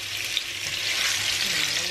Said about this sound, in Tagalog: Gigisa-gisa lang natin silang lahat.